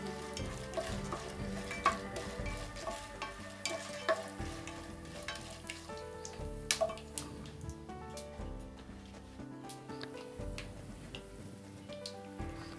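Cashew pieces fry in hot oil in a pan for upma while being stirred, a soft steady sizzle with scraping stir sounds, under a layer of background music.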